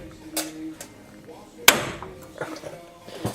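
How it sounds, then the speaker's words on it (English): A hammer strikes a rusted spindle on a K5 Blazer square-body hub once, a sharp ringing metallic clang, with a few fainter knocks and clatter around it. "you just can't beat it with a hammer like I did"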